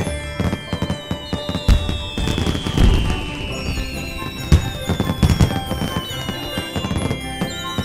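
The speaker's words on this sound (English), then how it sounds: "Look, they launched some fireworks just for you." Fireworks burst in a loud, rapid string of crackles and pops, with whistling rockets gliding downward in pitch and sharp bangs scattered throughout, heard close and busy.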